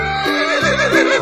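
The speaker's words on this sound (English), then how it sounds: "Horse." A horse gives a loud, close neigh with a long, wavering whinny that rises and falls for about a second.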